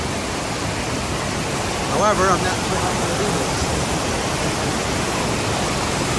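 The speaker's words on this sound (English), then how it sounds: "Look at that water gushing down there." Water gushes steadily down a mountain stream in the Smokies, a dense continuous rushing roar filling the scene, with a person speaking briefly over it.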